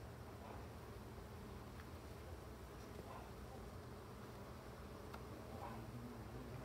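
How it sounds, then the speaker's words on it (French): Honeybees from a hybrid colony work an open hive frame, producing a steady, faint, dense buzzing drone with no breaks, heard up close. "Les abeilles qui sont en train de s'affairer"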